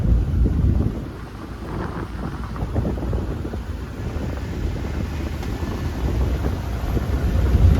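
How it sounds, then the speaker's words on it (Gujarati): Strong cold wind buffets the microphone in heavy, rumbling gusts that swell and ease without letting up. "ટાટો ટાટો પવન આવે છે ભાઈ"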